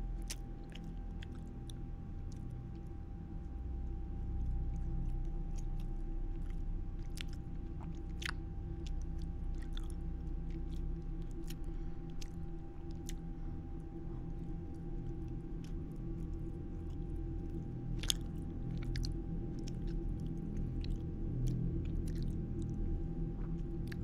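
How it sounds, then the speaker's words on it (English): Close, steady chewing of a Caramello Koala chocolate, soft crunchy bites and wet mouth sounds repeating over a constant low background hum, with no talking. "I'm eating my caramello koala right now."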